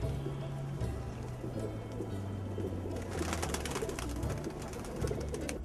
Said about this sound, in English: He first allows the pigeons to fly up and then makes them tumble in the air